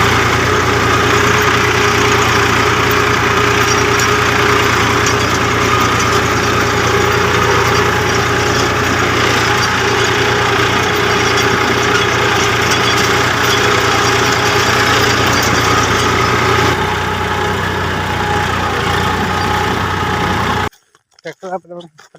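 A tractor engine runs steadily while sowing chickpeas in a field, a loud continuous drone close by that changes pitch slightly near the end before stopping abruptly.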